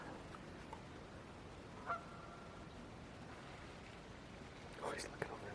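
Geese honking faintly in the distance on a lake on Isle Royale, a couple of short calls with a louder cluster near the end, under hushed whispering voices and steady outdoor hiss.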